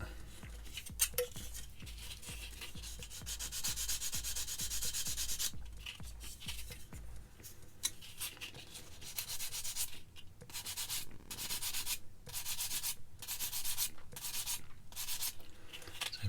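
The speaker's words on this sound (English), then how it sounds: "just let the sander do the work." A power sander works over a part of a Tamiya Honda NSR500 model kit, giving a faint, steady rubbing hum broken by short bursts of gritty scraping and small clinks.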